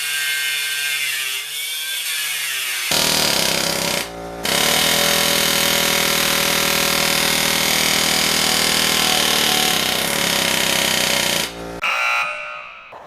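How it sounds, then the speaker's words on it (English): An air chisel and cutting wheel working loose the seats of a school bus, a loud, steady, harsh mechanical roar running for several seconds with a brief break partway through, then cutting off abruptly. "I'm going to use an air chisel to see if I can pop it off"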